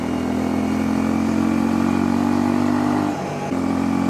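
A Honda CL250 motorcycle engine pulses loudly and steadily at close range, its exhaust a continuous throbbing drone with a short dip in level near the end before resuming, and no voices over it.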